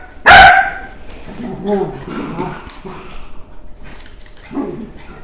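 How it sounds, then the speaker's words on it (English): A hyper dog barks once loudly and close at a second dog indoors, followed by softer yips and whimpers while someone talks over the rest. "he's just barking in Coco's face at the moment"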